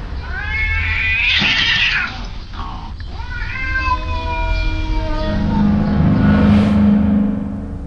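Domestic cats, young males in an apartment near San Francisco, yowl and caterwaul loudly in long rising and falling wails. The fighting cries run close and continuous throughout.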